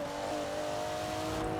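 Noble-derived car with a 3-liter twin-turbo Ford engine in Forza Horizon 4, holding a steady loud engine drone with strong sustained tones throughout, no talk.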